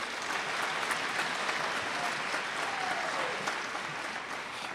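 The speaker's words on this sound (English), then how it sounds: "Let's give them one more round of applause." An audience at a 2016 FFA convention session claps in sustained, even applause for proficiency award winners, a dense wash of hand claps with no voices standing out.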